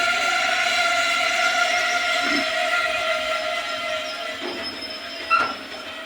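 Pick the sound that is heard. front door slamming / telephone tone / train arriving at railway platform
train arriving at railway platform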